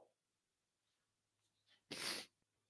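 A single loud, explosive sneeze bursts out near the end, preceded by a few faint breaths in an otherwise quiet room.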